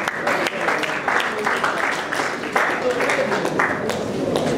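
Audience applause greeting a presenter at an ITEL TV smartphone launch event, a dense, steady wash of many hands clapping close by for several seconds.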